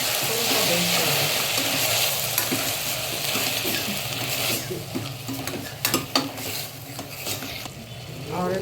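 Field beans (avarekalu) cooking in oil with salt for sambar, with a steady sizzle and frying hiss throughout, a few stirring scrapes and clinks of a utensil against the pan.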